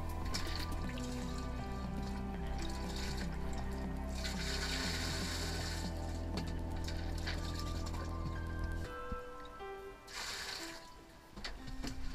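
Dirty water being bailed by hand out of the second chamber of a drained filter, sloshing and trickling with dripping splashes over a steady mechanical hum, close and continuous with a few louder bursts.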